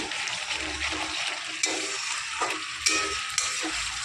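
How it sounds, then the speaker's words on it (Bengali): Spice paste frying in oil in a pan as it is cooked down, a dense steady sizzle with a few sharp clinks and scrapes of a spatula, close up and alone. "দেখুন মামনি মশলাটা ভালোভাবে কষিয়ে নিচ্ছে।"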